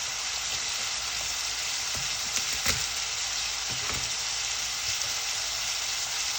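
Garlic cloves fry in a pan with a continuous loud hissing sizzle, broken by a few soft stirring scrapes.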